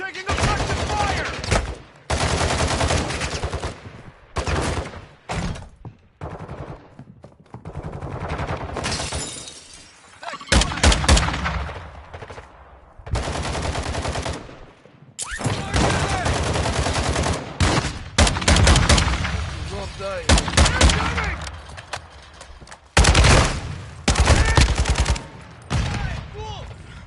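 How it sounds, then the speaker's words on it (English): Bursts of gunfire in Modern Warfare 2, rapid automatic fusillades and sharp shots in dense loud clusters with brief gaps, mixed with breaking and shattering impacts and shouted voices. "Taking effective fire!"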